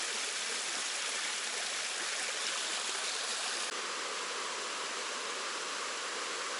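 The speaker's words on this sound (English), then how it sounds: "Not flowing heavy today, but there's still a waterfall." A small waterfall on a hiking trail, running light rather than in full flow, gives a steady, even broadband rush of falling water that stays close and constant throughout, with no voices over it.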